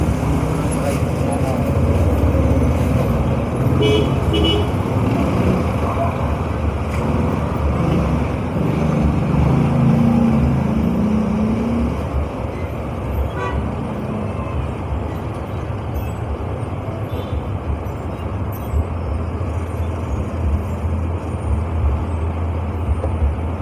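Busy city road traffic in Davao City rumbles continuously, with heavy vehicles, passing cars and an air brake hiss, loud and close throughout, while someone talks over the noise.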